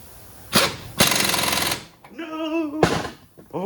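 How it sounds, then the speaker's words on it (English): An impact wrench on the big front brake bolts of a Kia Soul, set below high torque, fires in two loud, close rattling bursts, the second one longer, with someone talking between and after them. "These are pretty big bolts, so I'm not worried about snapping them with the impact."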